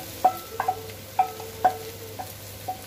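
Boiled medium-size potatoes being stirred and fried in a pan for pav bhaji, with a spatula scraping and knocking in a few distinct clinks and scrapes over a faint low sizzle, close and fairly quiet.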